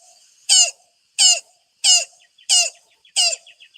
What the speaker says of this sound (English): So that's the yellow-billed cuckoo.